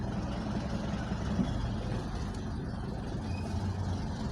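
A car driven slowly by a learner hums with a steady low engine rumble, constant and fairly close, with no voices.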